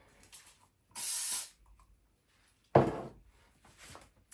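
An aerosol can of insect spray is aimed at a mosquito indoors, giving a half-second hissing burst, then a second sharper spray after a pause, both close and loud against a quiet room.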